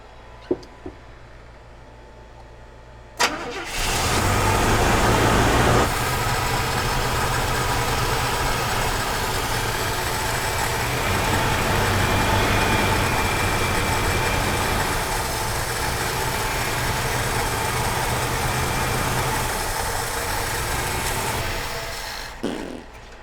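A junked Chevy C10 engine cranks and catches, then idles roughly and rich on choke with a steady low rumble and vibration for about twenty seconds before cutting off abruptly.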